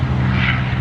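A Seabee Corvette amphibious airplane's propeller engine runs steadily nearby, a loud, continuous drone with a low throbbing hum and no voices over it.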